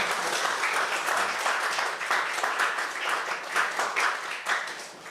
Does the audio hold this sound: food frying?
no